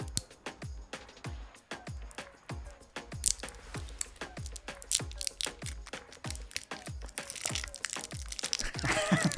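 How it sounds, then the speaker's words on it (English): A salsa jar opened close to the microphone for ASMR: a dense run of sharp clicks, crackles and crinkling snaps, repeating irregularly and growing busier toward the end. "ASMR salsa opening."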